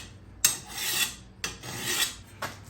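Three slow, rasping strokes of a coarse hand file across a steel lawn mower blade, each a distinct scrape with short pauses between, close and fairly quiet with no voices.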